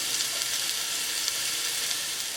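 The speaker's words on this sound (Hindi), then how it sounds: "आपने इसको हाई फ्लेम पर इतना करना है कि प्याज जो है नरम हो जानी चाहिए" Chopped onions and curry leaves frying in oil on high flame, a dense, even, loud sizzle that holds steady throughout with no voices.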